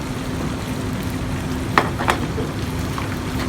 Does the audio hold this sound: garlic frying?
yes